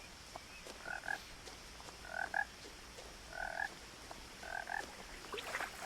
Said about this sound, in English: I hear frog.